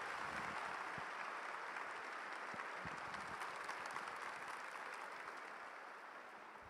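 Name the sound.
audience applause after a testimony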